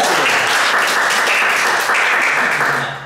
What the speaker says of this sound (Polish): Brawa do przyjaciół!